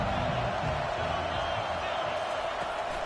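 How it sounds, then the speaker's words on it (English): A packed college football stadium crowd fills the air with a steady, dense roar that holds at an even level throughout, with no distinct cheers or words standing out. "This crowd bringing the energy and noise early."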